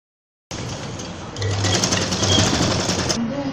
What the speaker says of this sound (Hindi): बॉडी की कॉलर को नीचे से दूसरी साइड से एंड तक की सिलाई लगाएंगे